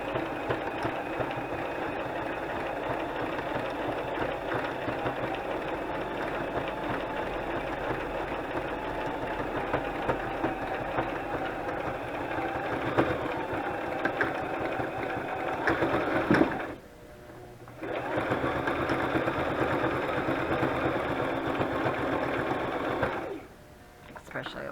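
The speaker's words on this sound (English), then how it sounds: "It's not the best sewing machine for this" A sewing machine stitches through thick material for a blue lace journal, producing a loud, steady mechanical whir that cuts out briefly twice and then starts again.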